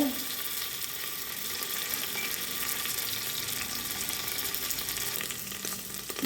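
Onions frying in oil in a home kitchen pan, a steady dense sizzle running close and even throughout with no talk.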